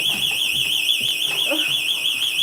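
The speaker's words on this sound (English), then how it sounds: "There's our super sensitive alarm system that always thinks anything is a glass break." A super-sensitive home alarm system, prone to false glass-break triggers, sounds a loud, steady high electronic tone with a warbling overtone, continuous and close, while faint voices murmur underneath.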